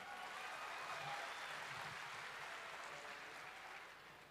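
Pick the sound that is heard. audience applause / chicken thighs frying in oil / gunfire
audience applause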